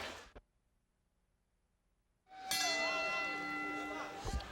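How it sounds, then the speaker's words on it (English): A boxing ring bell ends a round in a full fight, giving a loud metallic clang with a long ringing decay after near silence. "that's the end of the round. The bell rang."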